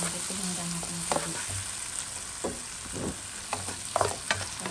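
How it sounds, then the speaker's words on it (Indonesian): Coarsely ground green chili frying with cooked shallots and garlic, a steady close sizzle with occasional scrapes and clinks of stirring, no talking. "Sekarang saya mau goreng-goreng campur sama bawang merah, bawang putih yang udah matang tadi."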